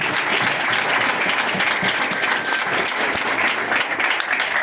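Church congregation applauding during an Easter Sunday service, a loud, sustained wash of clapping from many hands that continues evenly throughout.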